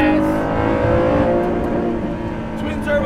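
A 2018 Ford GT twin-turbo V6 engine roars loudly and continuously nearby, a dense, throaty growl that swells and eases slightly as it revs.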